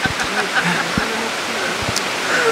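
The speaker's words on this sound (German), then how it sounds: "das wird jetzt gerade etwas sehr, sehr regnerisch" Heavy rain pours down in a rainforest, a loud steady hiss of water close around the listener, with brief faint voices mixed in.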